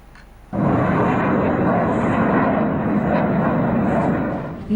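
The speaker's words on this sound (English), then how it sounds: "Deafening sounds of jet planes reverberated in Pakistan on Thursday night" Military jet planes roar overhead at night over Pakistan. After a brief quieter start, a loud, sustained, broadband engine roar fills the rest and eases slightly at the end.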